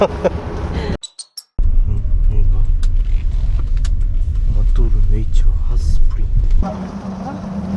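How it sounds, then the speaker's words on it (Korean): Jeeps pulling up one after another before a sunrise trip in Bali, a steady close engine rumble with a brief door or metal clink, while people talk over it. "이제 지프차들이 한 대씩 도착하고 있습니다"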